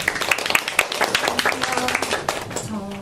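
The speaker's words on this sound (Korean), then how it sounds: "박수 부탁드립니다." An audience claps at a thematic seminar as a presenter is introduced, with scattered moderate applause mixed with talk and a few voices.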